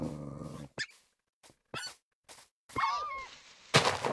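A wolf in Minecraft growls in short, separated bursts of gruff game audio, with a few sharper snarls and cries near the end; quiet gaps sit between the sounds and no one talks.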